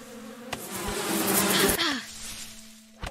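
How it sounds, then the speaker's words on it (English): Angry bees in the survival game Above Snakes, a dense buzzing swarm that builds loudly then cuts off abruptly, leaving a steady low hum and a short thump at the end. "There's some bees. I found bees!"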